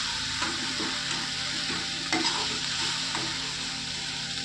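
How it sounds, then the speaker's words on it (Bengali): Vegetables for sago momo filling being mixed with coriander and cumin powder in a sizzling pan, steady frying hiss with soft repeated spatula scrapes and one or two clinks, close up. "দিয়ে ভালো করে মিশিয়ে নেব"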